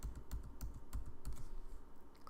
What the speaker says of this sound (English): change it to pure white by typing 6 letter Fs